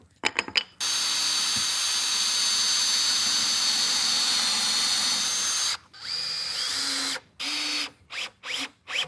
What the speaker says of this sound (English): Special type of drill bit that drills a pilot hole and then counterbores the top for a plug